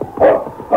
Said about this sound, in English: Sergeant Preston rode along behind King, who, sniffing and barking, still followed the trail of the crooked